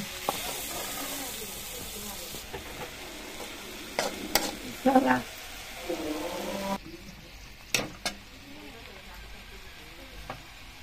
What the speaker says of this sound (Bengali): তো নাড়াচাড়া দিয়ে দিই আর কি।